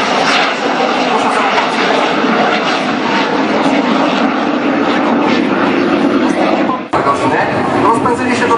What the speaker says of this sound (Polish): samolot zaczyna się rozpędzać